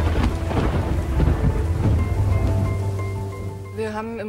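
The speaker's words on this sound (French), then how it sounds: "Et soudain, l'orage éclate." A thunderstorm breaks directly over an airport, with loud rolling thunder cracks over heavy steady rain that ease into a lower rumble near the end.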